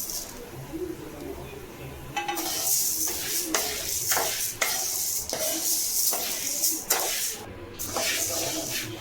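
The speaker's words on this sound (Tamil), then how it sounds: "இப்போ கடலப்பருப்பை ஃபஸ்ட்டு தனியாக போட்டு வறுத்துக்குவோம்." Chana dal and urad dal roasting dry in a pan for idli podi, with a steady hiss and repeated scraping stirs of the spoon rattling the lentils at close range.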